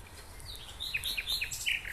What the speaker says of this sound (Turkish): şu kuşların sesine